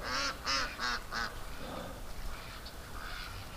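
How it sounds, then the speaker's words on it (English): Ducks playing in the mud after rain on a cold winter day, a run of four loud honking quacks close by, then softer scattered calls. "the ducks are loving it though. They're playing in the mud"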